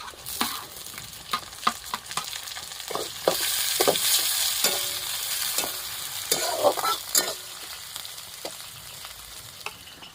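Tomatoes frying in a pan with a spice-heavy home fish curry, stirred with repeated scraping strokes over a steady sizzle; the hiss swells in the middle and the utensil knocks sharply against the pan throughout.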